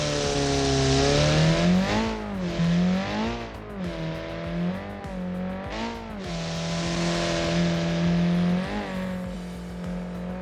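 Mid-engine turbocharged Group B rally car with a 458-horsepower engine on 2.5 bars of boost, driven in BeamNG, revving hard through repeated gear changes and lifts, loud and close with a rising and falling engine note.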